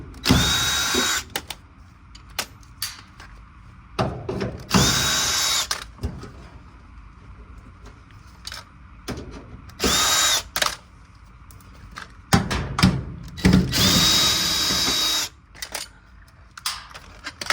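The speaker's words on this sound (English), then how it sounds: "there's going to be 4 of these 1/4 inch screws. Take them out." A power drill backs out four 1/4 inch screws from a clothes dryer, with several short loud whirring bursts spread out between clinks and handling noise, close by.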